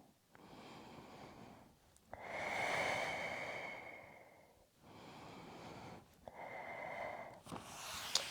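Big, deep breaths taken during a pilates tension-release session, with two long drawn inhales or exhales and shorter breaths between them, close and fairly soft, with no talking.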